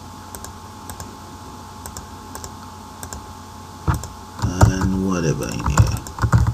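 Rapid clicking of a computer keyboard as data is typed into a Java billing program, a steady patter of light keystrokes that grows busier and louder toward the end while someone talks over it.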